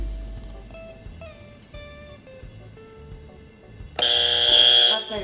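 A quiz-game buzzer is pressed during a rapid-fire question round, a sudden loud electronic tone cutting in near the end after a quieter stretch of softer tones and background noise.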